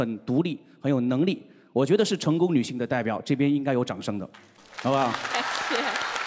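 A studio audience at a stand-up comedy show breaks into broad, steady applause that swells during the last second and a half, following a man's lively speech.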